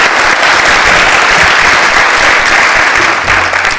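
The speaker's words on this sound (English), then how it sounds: "let's have a nice round hand of applause for our panel this morning" A conference audience gives the morning panel a sustained round of applause, dense and loud, an even wash of many hands clapping without a break.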